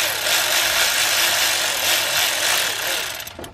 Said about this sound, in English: Now let's tighten down the two 10mm bolts.